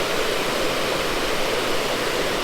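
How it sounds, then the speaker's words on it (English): A waterfall in New Zealand's Catlins roars in a steady, dense rush of water with no breaks, loud and close. "That's the waterfall we came for."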